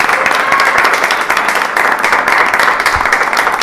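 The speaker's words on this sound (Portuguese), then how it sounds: "aplausos para o Jair" Steady, dense applause from a studio audience at a Brazilian presidential election debate, loud and continuous throughout, with many hands clapping at once.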